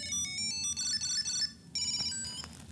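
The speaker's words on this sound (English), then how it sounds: "I wanna ring my Tile Sport, I just hit Find. Now, you can hear it go off" A Tile Sport Bluetooth tracker rings with a bright, repeating electronic melody of high chiming notes, playing continuously with a short gap partway through, fairly quiet and heard alone.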